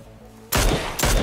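Two loud gunshot bursts from the shooter game PUBG fire in quick succession after a quiet moment, each a sharp broadband crack with a short decaying tail.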